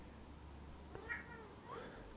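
A cat gives two soft, faint meows in a quiet room, short rising calls spaced about half a second apart over a low steady background hum.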